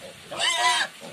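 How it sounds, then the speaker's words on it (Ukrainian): Four sows and their piglets grunt and squeal at a group feeding, a brief burst of excited high-pitched piglet squeals rising in the middle between softer low grunts. "4 мамки кормят всех поросят."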